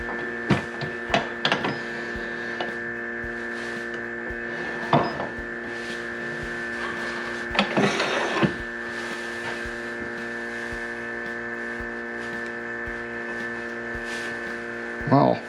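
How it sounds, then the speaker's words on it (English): A vacuum pump runs in a woodworking shop while burls are glued together, giving a steady, even electrical hum with strong harmonics. A few short knocks and clicks are heard close by. "The vacuum pump is running."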